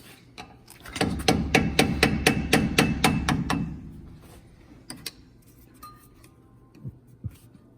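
Rapid hammer blows ring out against a steel spindle while installing Belltech 3-inch drop spindles on a truck, about ten sharp, evenly spaced strikes in a quick burst, then a few scattered knocks and clanks.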